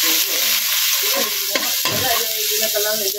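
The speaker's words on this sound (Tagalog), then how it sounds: "Lagayin natin yung ating garlic" Garlic sizzles in hot oil in a pan for fried rice, a steady bright crackle with a few scraping stirs of a utensil, close and loud, with no talking.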